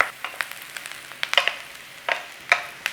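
Onions fry in a pan for a layered potato and ham casserole, a soft sizzle punctuated by frequent sharp clicks and scrapes of stirring, close and uneven in rhythm.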